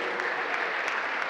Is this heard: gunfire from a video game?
no